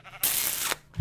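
Sheep bleating in a video game, one loud, drawn-out bleat lasting about half a second, heard close and on its own.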